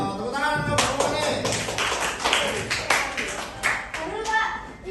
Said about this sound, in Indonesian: Tepuk tangan untuk semua nih.